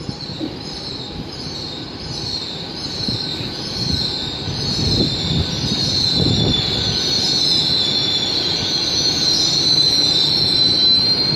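A Great Western Railway Class 800 train at Llanelli station rumbles steadily past at close range, its wheels squealing in a high, sustained whine over the rolling roar; no one speaks.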